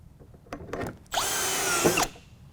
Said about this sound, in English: then drive your Cortex screws using the setting tool provided in the package.